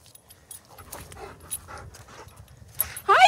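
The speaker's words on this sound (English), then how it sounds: "Oh, my dog's friendly." A Rhodesian ridgeback dog outdoors in a field, with soft panting and snuffling close by, then a louder burst of whimpering or excited vocalizing at the end.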